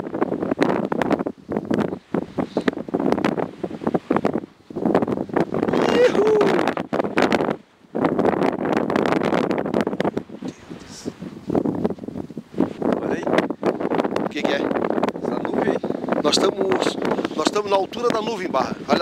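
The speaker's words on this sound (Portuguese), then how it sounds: "E tá ventando aqui." Wind gusts across a cold mountaintop in the Serra Catarinense, above the clouds, buffeting the microphone with rough, uneven rushes under near-continuous conversation.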